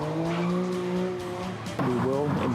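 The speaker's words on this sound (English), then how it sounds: "Dangerous and disruptive drifting takeovers skidding around intersections packed with spectators" Cars drift through a street intersection at a street takeover packed with spectators, their tires squealing in long sustained skids under revving engines, with a second burst of screeching near the end.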